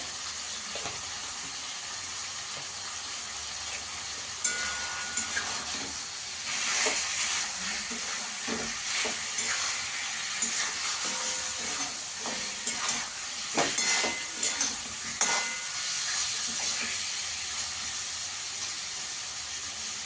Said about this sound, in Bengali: গ্যাসের ফ্লেমটাকে বাড়িয়ে নিয়ে একটু ভেজে নেব।